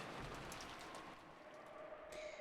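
Steady rain sound effect from the visual novel Umineko, a dense, even hiss of falling rain that runs without a break, fairly quiet, with a faint tonal line underneath and no voices.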